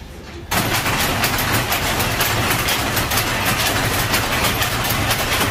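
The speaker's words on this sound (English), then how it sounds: "You see all the pulleys spinning round, powering all the belts, which is then powering the machine." Cotton mill weaving machinery at Quarry Bank Mill starts up after a quiet half second and settles into a loud, dense, continuous mechanical clatter and rumble of spinning pulleys and belts.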